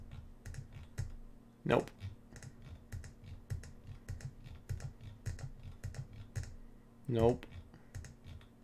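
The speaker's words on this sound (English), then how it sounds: "And here we go again with the damn clicking." Rapid, repeated clicking of a computer keyboard or mouse runs steadily throughout, moderately close, while a person speaks briefly over it.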